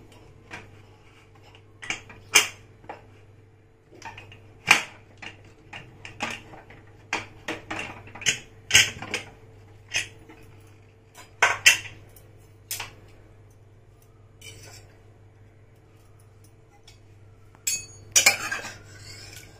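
A pressure cooker of cooked mutton being opened: sharp metallic clinks, taps and knocks of the lid and utensils, scattered and close, with quiet gaps between and a clustered rattle near the end, no talking.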